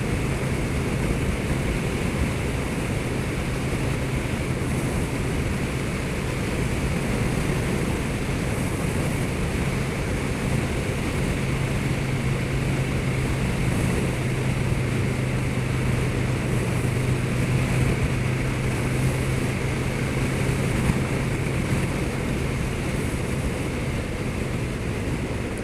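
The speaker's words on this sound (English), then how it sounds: "So I got the bike up into 6th gear now, just seeing what it's like at national speed limit in 6th." A 2020 KTM 1290 Super Duke GT cruising in sixth gear at just over 3,000 rpm at the national speed limit, a steady low engine drone under heavy rushing wind noise, continuous and even.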